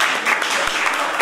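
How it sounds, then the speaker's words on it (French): Brief burst of audience applause at a women's gathering for 8 March, dense steady clapping from a crowd, fairly loud throughout. "On l'applaudit encore."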